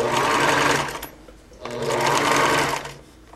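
A sewing machine stitches a fabric burp cloth in two loud, steady runs, whirring for about a second each, separated by a brief pause.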